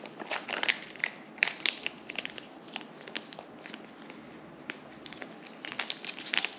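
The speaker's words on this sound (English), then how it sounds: "I'll usually just use a little baggie to stir it all up" Dog food mixed with fish oil and a food topper being stirred in a small plastic baggie, giving soft repeated crinkling and squishing rustles, close and fairly quiet, with no talk.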